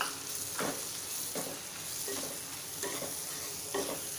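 Tomatoes tipped into a pan of masala frying in oil, giving a steady sizzle with several soft scraping stirs at regular intervals, close and moderately loud, with no talking.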